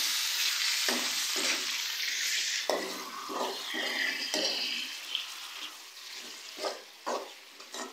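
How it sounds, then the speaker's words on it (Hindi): Chicken being stirred in a pan with onion and ginger-garlic paste for a bhuna chicken, a steady close sizzle of frying broken by repeated scraping strokes of a spoon, with no talk. "चिकन को अच्छी तरह से मिक्स करेंगे"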